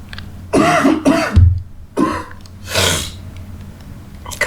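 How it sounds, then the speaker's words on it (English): A person coughs in several separate bursts, close and fairly loud, with breathy gasps and a throat-clearing sound between them and no talking. "Coughing a lot."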